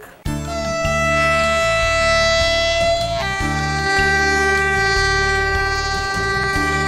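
Passenger train at the Espanya station in Manila: a loud, steady horn-like tonal blast rings out over a deep rumbling engine, with the pitch shifting partway through.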